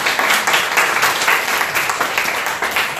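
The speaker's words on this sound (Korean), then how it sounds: "박수 한번 쳐요 진짜" Applause from a church congregation, steady dense clapping filling the room without pause, loud and close.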